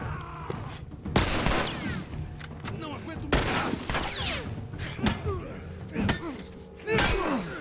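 Rapid bursts of gunfire in The Last of Us video game, with sharp cracks and thuds spread across the scene, a voice briefly speaking between the shots.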